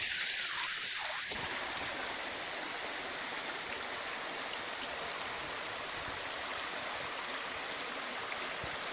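A mountain valley stream in a Dongducheon gorge near Seoul flows in a steady, loud, full rush of water that runs alone and unbroken throughout.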